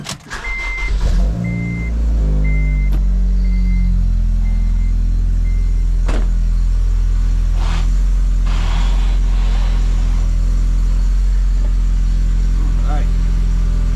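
A lowered car's engine starts and settles into a steady, loud idle close by, with a rumbling low drone throughout and an intermittent beeping chime early on.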